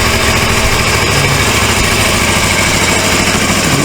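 Rare 1980s Suzuki GS 450A automatic motorcycle engine running with a loud noise from the transmission and an oil leak: a steady, loud, close mechanical drone with no pauses or talk.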